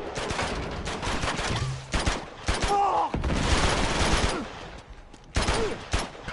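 Gunfire in the video game Uncharted 2: Among Thieves comes as rapid, repeated shots and bursts amid other game sounds, loud and close across the whole stretch.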